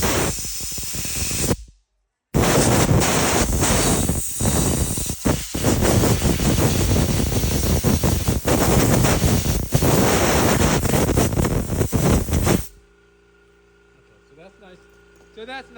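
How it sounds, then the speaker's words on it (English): Compressed air from an air compressor blasts loudly and almost continuously while an old Winchester Model 06 rifle is cleaned, with a brief gap early on before the roar stops abruptly near the end. "it's going to be even louder when the compressor comes. We're using quite a bit of air."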